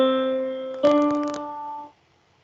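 A keyboard sounds one sustained note, then a second note struck a step away rings out with a brief percussive attack, illustrating a whole step made of two half steps, clean and alone before fading to silence.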